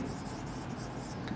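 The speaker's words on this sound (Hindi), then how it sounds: "तो लिखेंगे हम लोग यहां पर" Pen moving across paper as an equation is written by hand for a Class 10 polynomials maths problem, a faint steady scratching over a short stretch.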